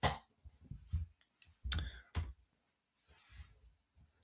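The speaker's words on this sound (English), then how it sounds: "I'm clicking too many things here." A computer mouse clicks repeatedly in short, sharp bursts, close and fairly quiet, with irregular spacing and a few louder snaps between softer taps.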